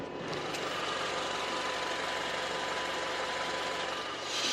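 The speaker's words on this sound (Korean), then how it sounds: "일반 승용 세단 정도의 엔진 소음 기대하실 수가 있는 차량입니다." A Honda CR-V gasoline SUV engine idles with the hood open, a smooth, steady, even hum that holds without change.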